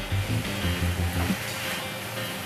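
Potatoes frying and being stirred in spice paste for a prawn curry give a soft, steady sizzle throughout, with a few low clunks of stirring near the start.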